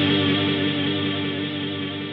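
An electric guitar runs through an EarthQuaker Devices Transmisser reverb pedal set to a short decay, giving a loud, dense, sustained wash of ambient tone with no talking.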